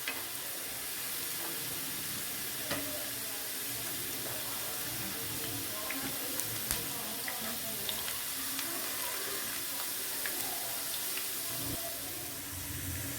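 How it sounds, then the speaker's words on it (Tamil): Home-made French fries cooking in hot oil: a continuous low sizzle with scattered pops and light clinks of utensils, fairly quiet and close, with no talking. "கரெக்டாக 30 செகண்டுக்கு நீங்கள் இதை ஃப்ரை பண்ணிங்கன்னா போதும்"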